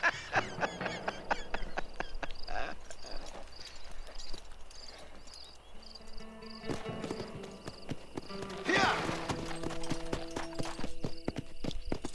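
Horse hooves clip-clop in the video game Red Dead Redemption, with rhythmic footfalls running throughout, mixed with game ambience, goose-like honks and occasional talk.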